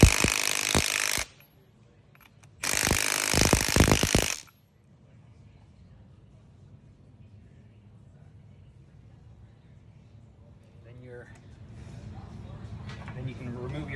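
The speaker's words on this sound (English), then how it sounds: "Then retighten the upper nut." An impact tool tightening the upper nut on a 5th-gen Toyota 4Runner FOX TRD Pro coilover, two loud harsh buzzing bursts up close, then quiet with soft shop noise.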